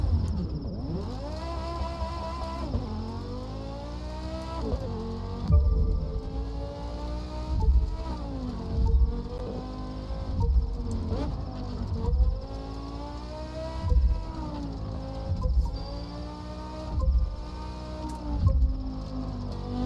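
Porsche Carrera GT engine in the racing game The Crew 2, a sustained engine note rising and falling through repeated gear shifts and revs, with regular upshift pulses across the run and no talk.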